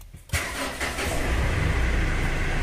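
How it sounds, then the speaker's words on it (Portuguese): Mitsubishi Triton pickup engine started with a push-button start-stop system: a short crank and then the engine catches and settles into a steady, loud idle close by. "vou segurar ali, ó, no freio e dar a partida."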